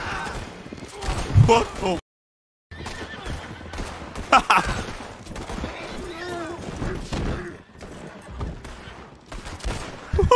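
Gunfire in the Red Dead Redemption roleplay game, sharp shots mixed with horse whinnies and clip-clop, loud and close, broken by a brief silent gap, with people talking over it throughout.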